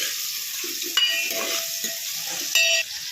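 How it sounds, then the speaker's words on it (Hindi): Onions sizzle in a pan while being stirred, with a constant bright frying hiss and a few scraping and clinking strokes close by, no one speaking. "प्याज को हम 2 मिनट अच्छी तरह चलाएंगे जैसे हमारा प्याज पके"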